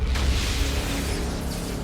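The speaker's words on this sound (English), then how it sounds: "you hear a loud explosion and the drywall of the room you're in cracks" A loud explosion sound effect, a deep, sustained rumbling boom that fills the whole stretch with heavy low-end roar, heard alone without talk.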